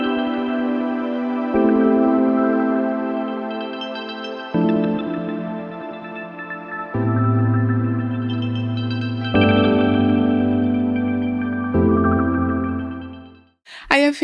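Synthesizer chords pass through a shimmer reverb preset, sustained layered tones changing every couple of seconds with a bright, wide, echoing halo, alone and fairly loud, ending in a brief sharp burst.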